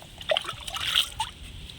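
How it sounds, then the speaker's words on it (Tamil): Three-quarters of a mug of rice-washing water, used as liquid fertilizer, is poured onto a jasmine plant in a garden, giving a brief, faint spatter and splash with soft trickling. "இதை பக்கத்தில் இருக்கிற இருவாச்சி மல்லிகை பூக்கு ஊற்றிடலாம்"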